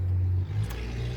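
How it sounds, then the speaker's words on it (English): A loud car engine revs outdoors, a low rumbling drone that surges near the start and then eases slightly, with a brief hiss of passing noise midway and no talk. "That's a really loud car."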